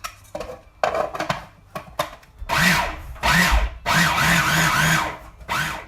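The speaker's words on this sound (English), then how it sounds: "load it up into my food processor over here. Okay, and I'm just gonna grind it up" Cooked peas for dahl grind in a food processor. Short clattering knocks give way to several loud bursts of whining motor, with brief pauses between pulses.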